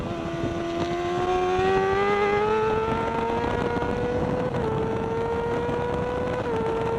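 Race motorcycles from the Cup and Superseries 600 class scream down the back straight at Snetterton circuit, a loud sustained high-revving engine note that holds steady with slight pitch shifts and a brief gear-change dip near the end, no talk over it.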